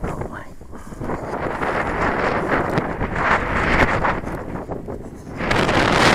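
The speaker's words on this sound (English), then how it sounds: "to be honest, it's too windy" Strong wind buffeting a microphone, a continuous rough rumble and rustle that swells and gusts throughout.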